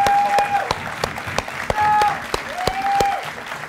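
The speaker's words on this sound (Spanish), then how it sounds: "Un aplauso para Mirta y para Cotito." Studio audience applause on a Peruvian TV interview show, clapping close and steady beneath sustained musical tones, with a brief voice in between.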